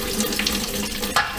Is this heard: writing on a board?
no